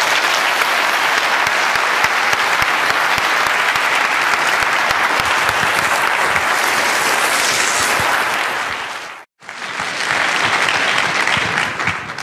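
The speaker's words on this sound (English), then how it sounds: "But a big round of applause" A conference keynote audience at Linux.conf.au 2017 gives a big round of applause, loud, dense and sustained. The clapping cuts off briefly near the end and then resumes at full strength.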